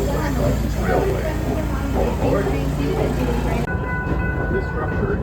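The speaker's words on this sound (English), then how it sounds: "Enjoy your ride with the Busch Gardens Railway." A Busch Gardens Railway train rolling along its track, a steady close rumble with rhythmic low clatter and a faint high whine running throughout.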